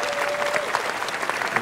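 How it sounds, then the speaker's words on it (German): Studio audience applause on a Sunday television variety show, a brief, steady patter of many hands clapping at moderate level. "Dein Applaus, der André."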